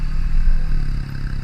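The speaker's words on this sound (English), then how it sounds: "This is our first time in the woods, riding the trails on our CRF110F" A Honda CRF110F dirt bike ridden slowly in second gear along woodland trails gives a close, steady engine drone layered with rattling and scraping clatter.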